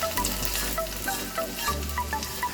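A pan of vegetables mixed with spinach cooks with a soft, steady sizzle and bubbling, with occasional light clinks, heard alone at moderate volume.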